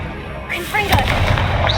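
After a brief quieter lead-in, a Confringo fire blast spell in Hogwarts Legacy bursts loudly and close, a heavy explosive boom with crackling rumble sustained to the end.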